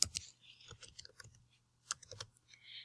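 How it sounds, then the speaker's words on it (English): A class code being typed on a computer keyboard, with quiet, close key clicks arriving in short irregular bursts separated by brief pauses. "I'm going to manually type that code now."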